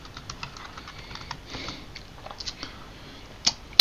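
Light, quick keystrokes tap on a computer keyboard while HTML code is being written, soft and fairly close, in an irregular patter that ends with a couple of sharper clicks.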